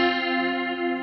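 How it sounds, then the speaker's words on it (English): A single sustained electric guitar note runs through a chorus pedal set to high depth and width, giving a steady, shimmering, slightly wobbly tone for about a second. "This is the sound of a chorus effect."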